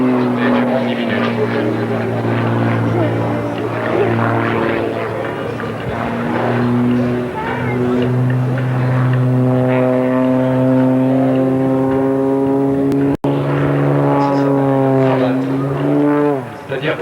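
Aerobatic airplane performing a display at Pruniers-en-Sologne air base, its engine droning steadily with a rising and falling pitch as it climbs and descends, loud and continuous, with a commentator's voice over it.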